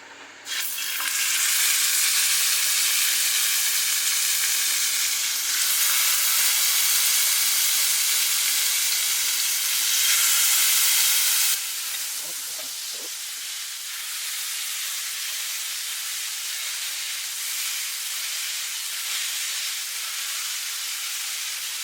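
Tandoori chicken fries in a hot pan with a little oil, giving a loud, steady sizzle that drops to a softer, continuous crackle partway through.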